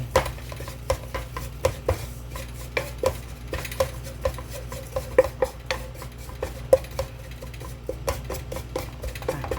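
Soybean sprouts tossed and mixed in a pan, a rapid run of clicking, tapping utensil strikes and scrapes over a low rumbling background.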